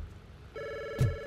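Telephone ringing in the video game RoboCop Rogue City: a short electronic ring tone starts partway in, steady and clear, with a brief thump near the end.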